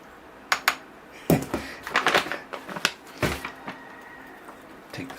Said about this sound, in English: let me spoon the mix out without making a mess